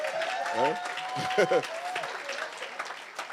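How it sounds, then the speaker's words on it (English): Applause from a church congregation during a Sunday service, scattered clapping mixed with prominent voices and cheering over the top. "Somebody give the Lord a round of applause."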